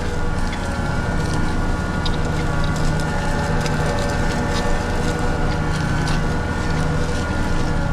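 A loud, steady tractor engine drone while ploughing a field, rumbling continuously from start to finish, close and unbroken, with faint clatter on top.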